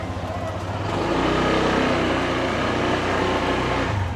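A motorcycle engine revs up and pulls away on a farm, a close, continuous mid-pitched engine drone that swells after the first second and holds steady, with a voice heard briefly over it.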